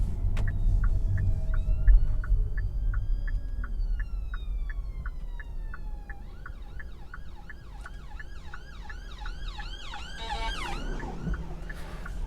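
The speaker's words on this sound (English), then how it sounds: "An ambulance coming." An ambulance siren wails past, its two-tone and warbling pattern repeating loudly over a low road rumble, then shifting into rapid yelps as it goes by.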